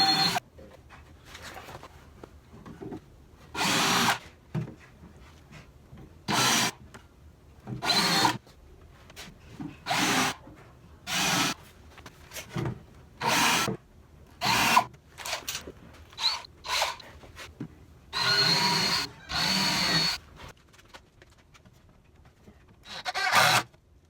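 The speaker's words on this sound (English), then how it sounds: "I'm going to pre-drill into the yoke so it doesn't split" A power drill pre-drills holes through wooden feet into a wooden yoke while building a kitchen box, with many short whirring bursts separated by brief pauses, close and clear, with no talking.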